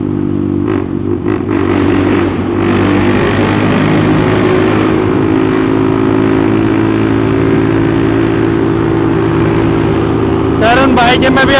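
Two Bajaj NS400Z motorcycles fitted with aftermarket exhausts, one full system and one slip-on, ride together with a loud sustained engine drone and rising revs, close and steady, with a brief clattering burst near the end and voices talking over it.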